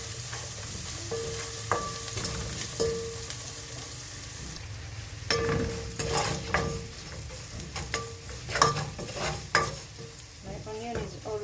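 Spinach and meat sizzle in a pan as a spoon stirs and scrapes, with clinks against the pan scattered over a steady frying hiss.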